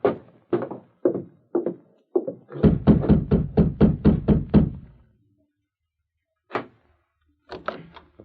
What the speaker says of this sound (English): then advanced and rapped on the door